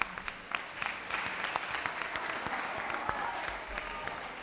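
Audience applause at a World Radio Day 2019 radio broadcast event in Alpicat, a scattered clapping crowd at moderate distance with individual claps standing out, steady for a few seconds.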